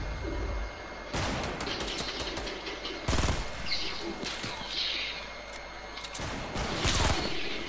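Fortnite gunfire, with sharp cracks and short bursts scattered irregularly over a busy background of game noise, some louder shots standing out near the start, middle and end.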